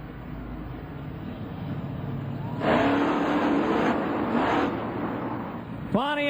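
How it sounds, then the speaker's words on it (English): Carolina Crusher monster truck engine revving inside the Pontiac Silverdome stadium at a USHRA event, a broad roaring rev that swells twice over a steady crowd and arena rumble. "Gary Wiggins in the Carolina Crusher"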